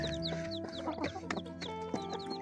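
Hens cluck and chatter close by, with overlapping soft clucks and a few higher calls over a steady farmyard background.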